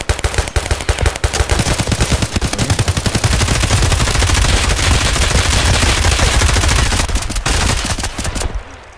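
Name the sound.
60-round magazine dump gunfire in Escape From Tarkov video game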